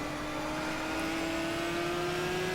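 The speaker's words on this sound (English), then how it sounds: "Loving the sounds of this Maserati" Maserati race car engine in the racing game GTR 2, a steady sustained drone with a constant whining tone and no audible rise or fall, loud and close throughout, with no voices.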